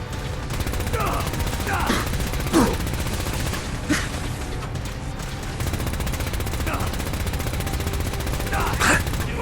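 Sustained gunfire in a Fallout 4 battle, a dense continuous crackle of shots with a few sharper bursts standing out, while shouted voices cut in over the din.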